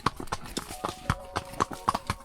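Horse hooves clip-clop in a steady, fairly close rhythm during a ride at a plantation resort in Munduk, Bali, with a faint tonal hum running underneath.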